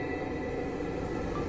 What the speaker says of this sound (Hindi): आज कानपुर मेट्रो का एक ट्रायल रन प्रारंभ हो रहा है।